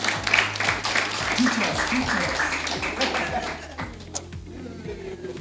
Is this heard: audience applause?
yes